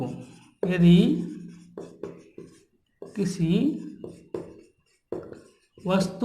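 Pen or chalk writing during a Hindi-language profit-and-loss math lesson, faint scratchy strokes mostly buried under a man's steady explanatory speech with short pauses.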